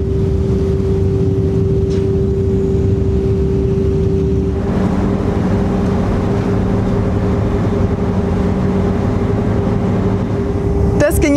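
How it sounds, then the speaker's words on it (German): A car ferry crossing a channel off Chiloé, Chile, pulls away with its engine running, giving a loud, steady, close low drone with a constant tonal hum throughout. "schon fuhr die Fähre los"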